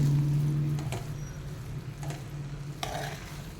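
Coriander being stirred into hot, freshly steamed raw mango rice (kairi bhat) in a pot, giving soft scraping and stirring sounds, a faint sizzle and a few light taps of the spoon against the vessel, heard close with no talking.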